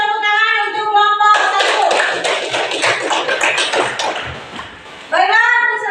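A classroom group claps for a student group after their presentation, a dense burst of applause lasting several seconds, with a teacher's speech just before and a student speaking right after.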